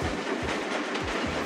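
A train in the Trains Trouble video game rolls steadily along with a rhythmic clickety-clack of wheels over rail joints, fairly loud and alone, with no voices.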